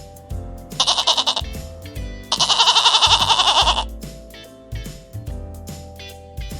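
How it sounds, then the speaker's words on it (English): A goat bleats in two long, wavering calls, loud and close, separated by a short pause, with a low continuous music bed underneath and no talking. "Correct, that is a goat."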